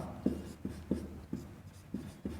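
Chalk or pen strokes from writing an equation during a Hindi-medium Class 10 maths lesson, six or seven short scratchy strokes in an even rhythm, close and fairly quiet, with no talking.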